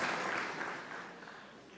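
Audience applause fills a church, a dense, steady wash of clapping from a congregation that holds level and then gradually thins toward the end.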